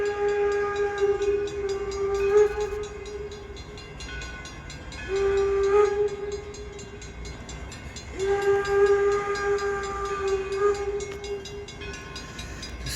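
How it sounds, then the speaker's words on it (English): A passing train sounds several long steady whistle blasts over a continuous rumble of rolling cars, fairly loud and close, with no talking. "And then watching the train go by."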